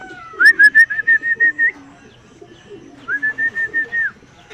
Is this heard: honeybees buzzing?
no